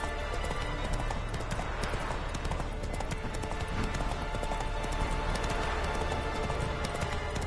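In the Witcher 3 video game, a horse's hooves beat in a fast, steady clip-clop rhythm throughout, close and continuous over a constant outdoor background.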